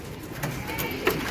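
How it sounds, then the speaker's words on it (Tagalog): Pigeons let out of their north loft coo and call nearby, with soft irregular bird sounds over a steady outdoor background and a brief louder call near the end. "So pinalabas ko na lahat ng ibon natin."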